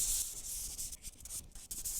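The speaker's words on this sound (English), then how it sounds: "First thing I'm going to do is I'm going to sand this all" MDO board is sanded by hand with 220-grit sandpaper, producing a close, steady hiss of rubbing strokes for about two seconds, with slight dips between passes.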